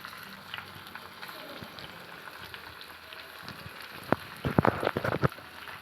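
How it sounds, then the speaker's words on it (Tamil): Carp fish pieces dropped into hot oil to fry for carp gravy, a steady rain-like sizzle rising into a burst of sharp spattering pops near the end. "இப்போ மீன் வந்து ஒரு பீஸாக நம்ம சேர்த்துக்கலாம் வறுக்கிறதுக்கு."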